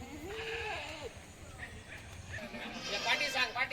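Goats for sale in Chandwad, Nashik district bleat a few times at close range, with wavering cries over a busy, murmuring background while someone talks throughout.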